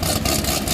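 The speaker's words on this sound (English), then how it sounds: "An all-motor LS7 sounds really good with a nice cam in it" Corvette with an all-motor LS7 V8 and a performance cam, rumbling steadily through its muffler at idle with a deep, lopey low-end throb that stays close and even.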